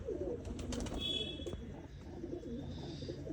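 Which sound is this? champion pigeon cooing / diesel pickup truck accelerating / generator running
champion pigeon cooing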